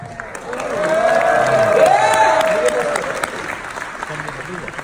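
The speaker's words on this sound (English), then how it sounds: "please give some cheers and all the leaders from Malaysia a warm applause" A large convention audience applauds and cheers for leaders from Malaysia, a broad wash of clapping that swells and fades, with a voice and tonal sounds threaded through it.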